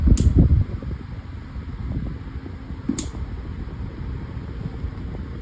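A Lasko 12-inch stand fan with a cheap plastic blade hums steadily with broadband airy whoosh, a louder rush at the start easing into a constant close drone with two faint clicks.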